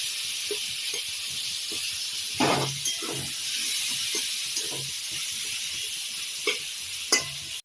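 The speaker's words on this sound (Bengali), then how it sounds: "পেঁয়াজগুলো হালকা লাল করে একটু ভেজে নেব" Onions sizzle steadily in hot oil nearby, with occasional scrapes and clinks of stirring breaking through the constant frying hiss.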